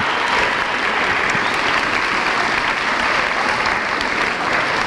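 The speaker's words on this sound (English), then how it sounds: "one more round of applause for our musical notes for all those students" Dense, continuous applause from a school ceremony audience fills the room for student band, orchestra and choir musicians, a steady wash of many hands clapping without pause.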